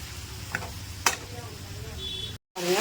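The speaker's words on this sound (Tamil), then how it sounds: "நல்லா வந்து வதக்கிடுங்க ஒரு அஞ்சு நிமிஷம் கைவிடாமல் நல்லா வதக்கிட்டு" Chicken sautéing in a hot pan for chicken thokku, a soft close sizzle with a couple of sharp spoon scrapes and taps, then a brief silence and the frying resumes.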